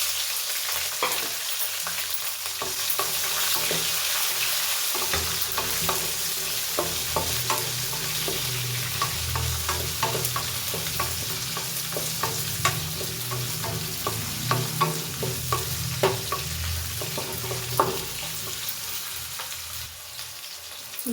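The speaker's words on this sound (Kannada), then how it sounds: "ಇವಾಗ ಈರುಳ್ಳಿ ಹಾಕೊಳ್ಳೋಣ." Onions fry in a pan with shallow rice vermicelli upma cooking, giving a steady loud sizzle throughout, with frequent stirring clicks and scrapes layered on top.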